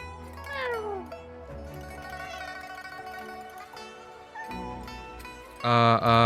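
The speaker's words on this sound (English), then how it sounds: "Oh, it is an interactable kitty. Pet the kitty." A cat in the Wuthering Waves video game meows several times while being petted and fed, over game music and tones, with a louder sound near the end.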